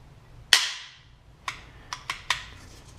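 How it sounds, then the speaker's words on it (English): A Sweeney Engineering high-performance trigger is pulled and released. One sharp, bright snap is followed by four lighter mechanical clicks, close up and in a quiet room. "So I'm going to go pull the trigger here, and you can watch as it works."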